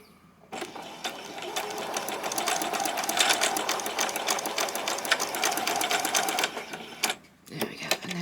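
A sewing machine runs a row of gathering stitches on swimsuit fabric, one steady continuous whir lasting several seconds, close and fairly loud, then stopping, with a brief restart and a few handling clicks after.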